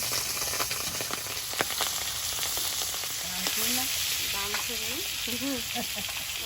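A salt-and-turmeric-coated piece of large river fish fries in oil in a wok, a steady close sizzle with a few clicks, while a voice talks over the second half.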